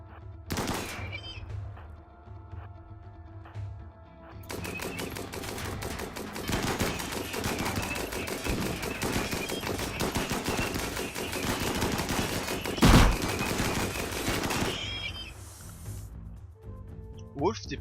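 Gunfire in the colony-sim video game RimWorld: after a quieter start, dense, sustained bursts of rapid machine-gun and rifle shots rattle on for about ten seconds, then fade, with voices audible near the start and end.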